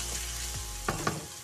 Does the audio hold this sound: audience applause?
no